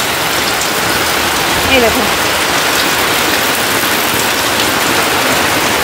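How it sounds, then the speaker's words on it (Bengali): Heavy rain pours down outside in a loud, unbroken wash of patter and splashing, with a person briefly speaking over it. "এই দেখো বাইরে প্রচণ্ড বৃষ্টি হচ্ছে"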